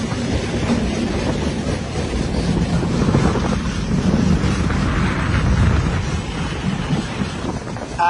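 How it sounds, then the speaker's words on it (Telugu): The Bokaro Express rolls along steadily after pulling out of Ernakulam Junction, a continuous close rumble of rail cars with faint clatter and wind buffeting throughout, no voices. "ఎర్నాకుళం జంక్షన్ నుంచి మన ట్రైన్ అయితే ఇంకా బయలుదేరిపోయింది"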